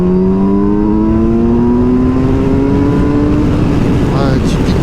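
Kawasaki Versys 1000 four-cylinder motorcycle engine revving up steadily from about 4000 rpm in third gear, a loud rising whine with a smooth climbing pitch, close by, with brief talk near the end.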